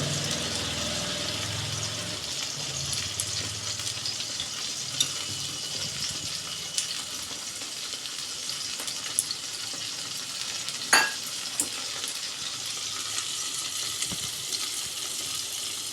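Cut potato pieces fry in a pan alongside dal, giving a steady hissing sizzle throughout with occasional light scrapes and clinks of stirring, close and unaccompanied by speech.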